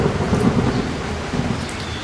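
Heavy thunderstorm rain pours steadily, with a deep rumble of thunder rolling underneath throughout; no one speaks.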